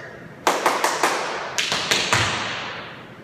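Hand claps in a quick triplet pattern for practising a tap dance double pullback, two groups of sharp, close, dry claps separated by a short pause, with no voice over them.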